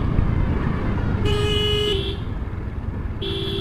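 A car climbing a steep mountain ghat road in first or second gear gives a steady low engine drone throughout, broken by several sharp horn toots from nearby traffic.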